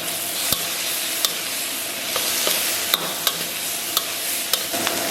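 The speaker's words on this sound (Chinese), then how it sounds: "简单煸炒以后啊，咱们把洋葱给它下里边。 炒香以后啊，咱们把这个酱料给它下里边" Onions and sauce being stir-fried in a wok while vegetables, tomato, instant noodles and egg wait to go in, giving steady close sizzling with regular sharp scrapes and clinks of a spatula.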